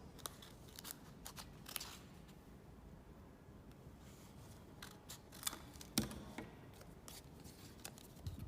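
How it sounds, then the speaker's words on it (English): Scissors snip out a freehand-drafted paper flare pattern, a series of quiet, irregular cuts and crunches with louder snips near the end, alone without talk. "Now after connecting, you now cut it out."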